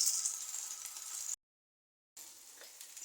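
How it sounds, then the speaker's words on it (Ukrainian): A steady high sizzle of syrniki (cottage cheese pancakes) frying over medium heat in a hot pan, cut by a short silent gap before the sizzling returns. "відправляю на гарячу сковорідку. Печу на середньому вогні"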